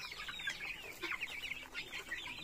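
Native Darag hen clucking nearby in a rural backyard, a run of soft, choppy clucks repeating steadily through the short stretch with no talking.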